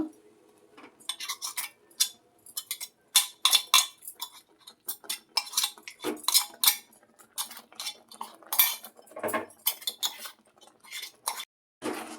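A metal spoon repeatedly scrapes and clinks against a pot on low flame while mixing ground spices for tamarind chutney, in irregular bursts, close and fairly loud, with short quiet gaps between strokes.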